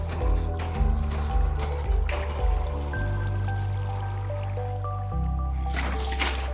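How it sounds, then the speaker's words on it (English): Water buckets being placed in Minecraft give a few soft squishy splashes spaced through the clip, sitting under steady sustained background music. "place down water buckets at the ends of the rooms"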